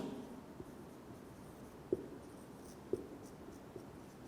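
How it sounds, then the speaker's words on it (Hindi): Writing on a classroom board during a chemistry lecture: faint scratchy strokes with a few soft taps, quiet and sparse, with no voice heard. "मैं इसलिए बोर्ड पे लिख रहा हूँ"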